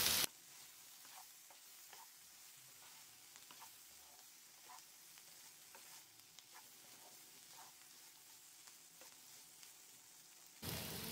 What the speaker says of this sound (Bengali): চুলা লো ফ্লেমে রেখে ফ্রাই করে নিতে হবে। কিছুক্ষণ পরপর নেড়ে চেড়ে দিতে হবে